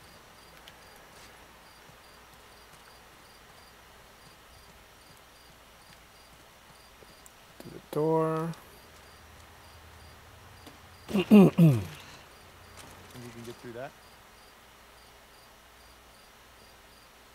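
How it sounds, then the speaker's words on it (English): Crickets chirping in the video game The Last of Us Part II, a faint steady background drone throughout, with people talking briefly over it. "Ah, the cricket's back."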